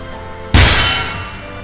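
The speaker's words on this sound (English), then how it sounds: "It's the sound of the doll's weapon crashing into Susanari's body." A doll's weapon crashes into a body in the video game Magical Eyes: one loud, sudden metallic clang that rings out and slowly decays, alone after near silence.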